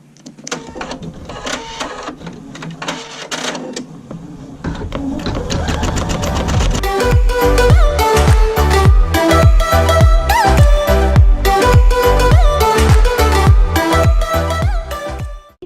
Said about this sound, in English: which is going to be our placement stitching for the snap tab design with the Rudolph